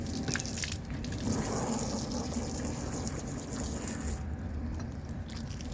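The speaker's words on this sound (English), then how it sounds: "Now I'm gonna flush this out with a hose." Garden hose flushing water through a car seat during cheap seat cleaning, a steady close gushing spray with splashing that varies in intensity throughout, no talking.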